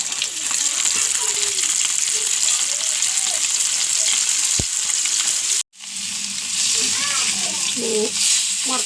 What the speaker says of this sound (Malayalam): ഇനി ഉണക്കമീൻ വറുക്കട്ടെ.